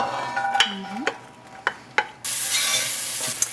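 Mirepoix sautés in olive oil in a pan, with a few sharp stirring clacks and scrapes before a bright, steady sizzle takes over in the final second.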